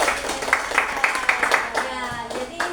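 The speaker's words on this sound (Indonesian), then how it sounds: "tepuk tangan dulu dong" A small group at an Indonesian teachers' training session claps together, a brief burst of steady hand claps at moderate volume, with some voices mixed in.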